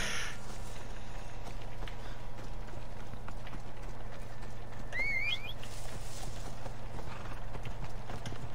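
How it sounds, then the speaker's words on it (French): Horse hooves clip-clop steadily in the Assassin's Creed Odyssey video game, a continuous even gallop-like rhythm at moderate level over a low droning game ambience, with a brief bird-like chirp partway through. "Bon, on va appeler le cheval, hein."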